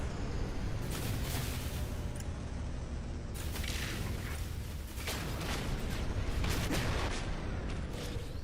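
Starship weapons in No Man's Sky firing at a swarm, a dense, rumbling barrage of booming blasts in rapid bursts, loud and continuous with brief lulls over about eight seconds, no talking.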